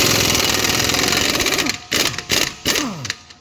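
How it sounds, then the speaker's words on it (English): Air impact wrench hammering off an axle nut on a Nissan Pathfinder, a loud rapid rattling burst followed by several shorter bursts as the tool winds down between pulls. "So I'm gonna use the impact to drive this nut out."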